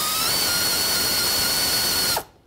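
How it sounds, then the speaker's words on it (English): A 6 mm socket on a powered driver spins off a radiator hose clamp on a 2008-2010 Ford F-250, a loud, steady mechanical whir that stops abruptly near the end, leaving quiet. "remove the hose clamp with a 6 millimeter socket"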